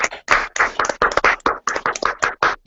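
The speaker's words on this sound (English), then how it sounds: "let's give these guys another round of applause." A small group claps for award-trip winners at a company convention event, with distinct, separate hand claps in an uneven rhythm, close and fairly loud, each clap standing apart rather than blending into a roar.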